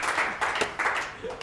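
A small audience gives brief, moderate applause for Derek Homann, co-founder of Workshop, with uneven bursts of clapping and a voice faintly audible beneath.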